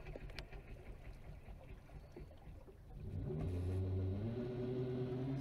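A 2,000 watt e-bike motor drives a boat at low speed just after leaving the dock, a low hum and water noise that swells into a steady, louder droning rumble partway through.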